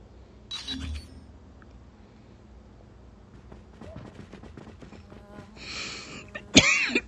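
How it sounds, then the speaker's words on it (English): A person coughing close to the mic: one short cough early on and a sharper, louder one near the end, with quiet background game noise between. "I'm sorry about the cough right now"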